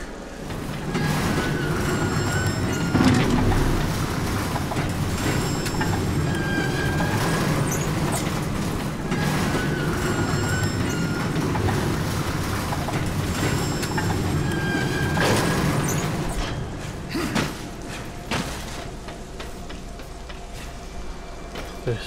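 A train rolls along in the video game Darksiders, a steady rumbling clatter with faint metallic squeals and tonal hums holding at an even level throughout, then easing slightly near the end.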